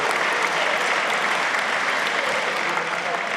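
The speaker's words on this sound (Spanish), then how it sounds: "¡Aplaudan, che!" Applause from an audience during an Argentine congressional informative session, a dense continuous wash of clapping throughout, with faint speech beneath.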